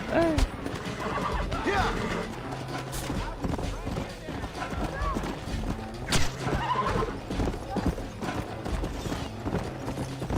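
A horse in the Red Dead video game neighs and whinnies several times among clip-clopping hooves and mechanical clatter, fairly close and loud, while a voice talks over it.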